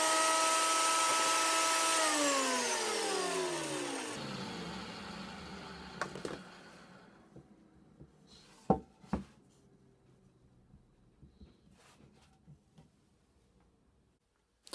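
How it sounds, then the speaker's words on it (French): A thickness planer whines loudly at first and then spins down with a falling pitch. Scattered knocks and clicks of a wood board being handled follow in the quiet. "il suffit simplement de raboter en ayant pour référence la face que l'on a dégauchie sur le plateau de la raboteuse"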